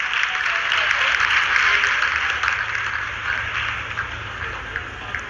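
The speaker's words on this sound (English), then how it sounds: "Lot of applause indicates that till now the performance has been nominal." Sustained applause fills ISRO mission control during the Chandrayaan-3 lunar landing's vertical descent phase, a dense steady roar of many hands with a low hum beneath, easing slightly toward the end.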